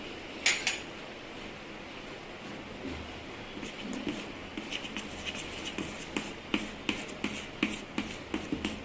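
Dal and rice appe batter stirred in a bowl, giving quiet scraping and soft rhythmic clicks of the spoon against the sides that grow steadier and more regular as the mixing goes on.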